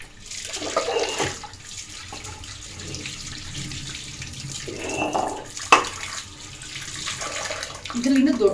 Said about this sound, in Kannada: ಇದು ನೀರು ಅಷ್ಟು ಗಲೀಜಿಲ್ಲ ನೀಟಾಗಿ ತೊಳ್ಕೊಳ್ಳೋಣ ಫಸ್ಟು